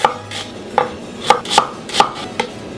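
A knife chopping an onion on a cutting board, about seven crisp, close taps at an uneven pace with no talking.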